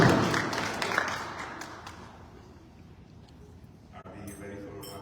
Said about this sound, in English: Lovely round of applause, Pandit Damodarji